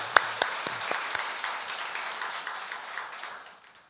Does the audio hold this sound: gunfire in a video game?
no